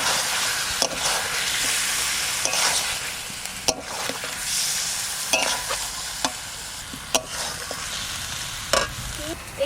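Chicken pieces with a spinach and coriander paste sizzle steadily in a pan while a spatula stirs and scrapes, giving sharp clicks every second or so over the continuous hiss.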